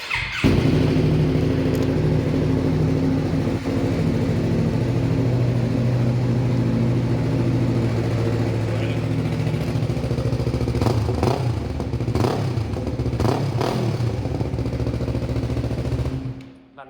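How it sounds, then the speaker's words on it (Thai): A 2018 Yamaha MT-03 motorcycle engine runs close by, its exhaust burbling steadily with a few blips of revving near the end before cutting off. "ฟังเสียงท่อกันหน่อยเนาะ เครื่องฟิตสตาร์ทติดง่ายเลย"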